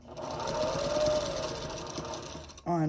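A sewing machine runs steadily and close while stitching down fabric on a square quilt block, one continuous whirring burst that cuts off before a voice comes in at the end.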